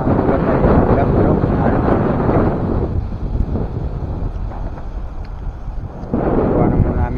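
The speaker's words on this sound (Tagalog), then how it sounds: "Napakalakas na ng hangin." Strong wind at sea beside a small fishing boat off Naic, Cavite roars and buffets the microphone. It forms a loud, continuous rumble that eases briefly in the middle before surging again.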